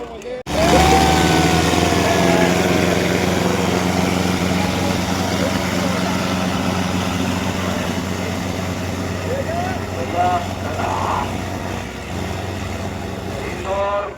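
Heavy tractor engines, Sonalika versus John Deere, roar steadily and loudly at close range during a tractor tug-of-war contest, with voices talking over the din throughout.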